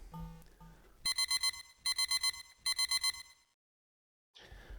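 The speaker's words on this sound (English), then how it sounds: "The pager is beeping." Pager alert in the Pokémon FireRed Rocket Edition game: three bursts of rapid electronic chiptune beeps, four quick tones each, loud and clean, preceded by brief game music and followed by a pause and more music.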